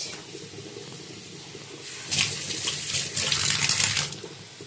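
Water runs steadily from a kitchen tap for washing fish such as bata and pabda, a close, hissing stream that grows louder and heavier midway before easing off, with no voices.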